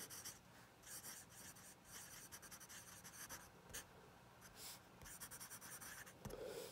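A Wancai Mini fountain pen with a 1.1 stub replacement nib scratches faintly across a page in quick, close strokes, with brief pauses between short bursts of writing.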